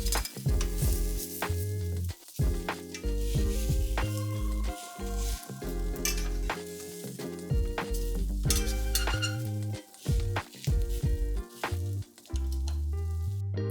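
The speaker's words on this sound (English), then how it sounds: "switch the oil around to get a nice crisp on the edges of the patties" Veggie burger patties fry in a pan of oil with a loud, steady sizzle, broken by clinks and scrapes of a spatula shifting them around.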